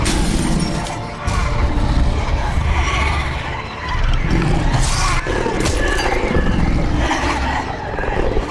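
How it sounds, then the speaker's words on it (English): Glass breaking and crashing during a tense scene in The Wolf Among Us, loud smashing bursts over a churning noisy backdrop, with a few sharp shatter hits spaced through the stretch. "The sound of breaking glass is just killing me."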